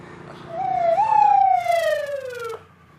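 An ambulance siren gives one rising then slowly falling wail that swells in over quiet background, holds for about two seconds and cuts off abruptly; no talk.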